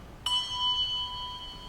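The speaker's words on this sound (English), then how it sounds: "This is standard 101 legato bell ringing." A single handbell struck with standard legato ringing technique at a church bell concert gives one clear strike followed by a bright, sustained ring that lingers quietly and alone.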